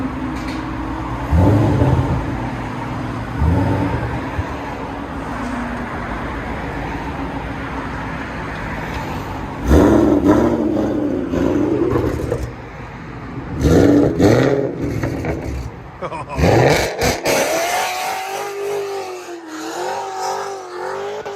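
A 2012 Shelby GT500 Mustang with a supercharged 5.4L V8, long tube headers and Corsa dual exhaust idles loud and close, then revs hard several times, the later revs rising into a sustained roar.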